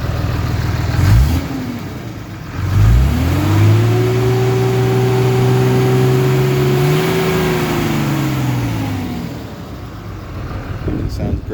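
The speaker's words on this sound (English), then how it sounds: "I'll rev the engine also." A 2006 Ram 2500 pickup with a 5.9L diesel engine and six-speed manual revs up from idle, climbing in pitch, holding high, then settling back down, loud and close, with a voice briefly heard near the start.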